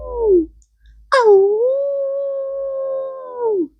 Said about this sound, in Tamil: அடுத்த மிருகம் நரி